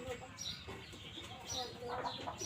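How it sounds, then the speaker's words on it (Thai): Chickens cluck faintly and intermittently at a rural Thai home celebration, brief soft calls scattered over quiet background noise with occasional voices. "ไก่สองตัวเลย"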